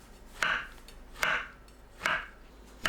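Four evenly spaced knife cuts through shiitake mushroom caps on a cutting board, slicing them about half a centimetre thick; each close, crisp thunk stands alone with no talk.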